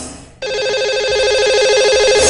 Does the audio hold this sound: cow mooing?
no